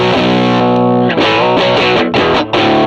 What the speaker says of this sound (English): Let's turn on the fuzz. All right, channel 1 on the Volume Commander.